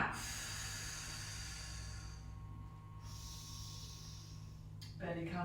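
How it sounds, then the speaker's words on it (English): Nearby nasal inhale and exhale during a pre-class breathing exercise, a soft steady hiss that dims midway and ends with a brief sharper sniff. "take a breath in through the nose, belly sticking out, and then breathe out"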